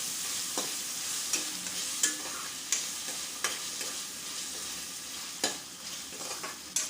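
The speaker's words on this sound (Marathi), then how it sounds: "टमाटरसुद्धा थोडा आपण तेलामध्ये परतून घेऊया" Finely chopped tomato sautéing in hot oil for a Marathi cabbage and chana dal sabji, a steady sizzle broken by several sharp spoon scrapes and clinks against the pan, close and without talk.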